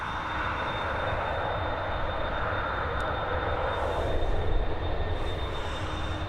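Ryanair airliners queue on a taxiway at Dublin Airport, their jet engines producing a steady, moderately distant whine and roar that swells slightly midway without pause.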